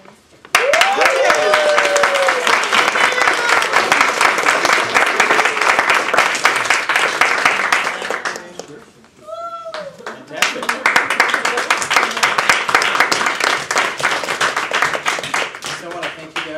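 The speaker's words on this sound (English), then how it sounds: "applause" A Toastmasters division speech contest audience gives a round of applause for a contest speaker, loud, steady clapping that dips briefly mid-way with a few whistles, then resumes strongly.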